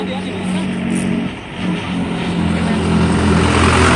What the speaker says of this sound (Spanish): ¡Cuidado, carro!